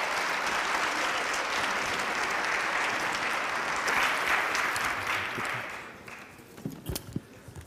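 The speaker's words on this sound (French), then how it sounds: "Un tonnerre d'applaudissements pour ce duo exceptionnel." Audience applause at a healthcare conference session in Nice, a dense sustained clapping from a sizable crowd that fades out toward the end as a few scattered claps linger.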